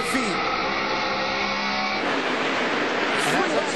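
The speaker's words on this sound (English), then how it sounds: "Did you hear that wheel spin, Benny?" A NASCAR stock car spins its wheels and roars around the Bristol track during Jeff Gordon's 2002 race, a loud continuous engine whine with crowd noise under excited commentary.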